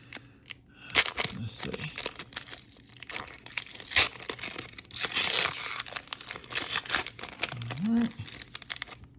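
Soccer trading card packs are torn open with crinkling, ripping foil and paper, loud and close in uneven bursts, while a voice speaks briefly.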